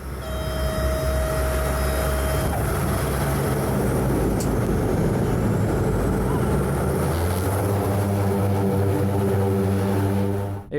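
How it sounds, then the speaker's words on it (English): A ski-equipped propeller plane landing on a short runway, a loud steady engine drone with shifting tonal hum that changes pitch partway through as the aircraft touches down and slows, close and continuous throughout. "We arrived by plane and the landing was,"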